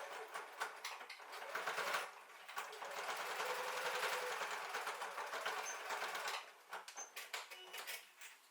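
A sewing machine stitches bias binding across the edges of a fabric pencil case at a 2 to 2.5 stitch length, with a fast, even mechanical whir that starts and stops in short runs, close and fairly quiet.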